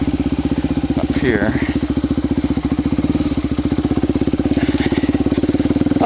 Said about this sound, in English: I love riding my dirt bike.